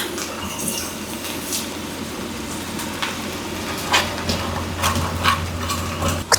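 Fish curry being stirred in a pot as second coconut milk is poured in, for an old village recipe: continuous wet sloshing with light scraping and clinks against the pan, close and without talk.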